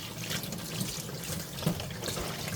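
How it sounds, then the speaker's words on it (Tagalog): Tap water runs steadily into a sink while seafood and vegetables for a Korean seafood stew are rinsed, a soft continuous splashing with small bumps of handling, close and fairly quiet, with no talking. "At hugasan natin maigi para malinis."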